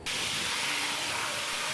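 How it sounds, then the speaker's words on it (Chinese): Sauce is poured into a hot pan of lard mixed with cooking oil over low heat, setting off a loud, continuous, close sizzle. "保持小火，把刚才调好的酱汁倒进去"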